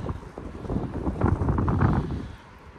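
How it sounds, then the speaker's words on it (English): Wind gusts across a Hampshire gravel pit lake, buffeting the microphone in a loud, low rumble that swells for a couple of seconds and then eases off. "It's just annoying about this wind at the moment."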